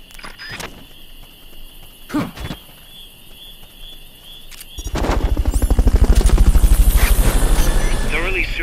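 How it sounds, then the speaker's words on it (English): Helicopter in the video game Metal Gear Solid: Peace Walker, a loud rotor drone rising suddenly midway and holding steady to the end after a few scattered short game noises. "Fulton Recovery subject confirmed onboard helicopter"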